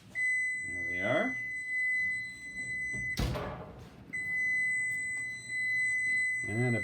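An oven timer beeps with a steady, loud electronic tone running almost throughout, broken once by a clunk and rustle as something is handled, and a voice is heard briefly alongside it.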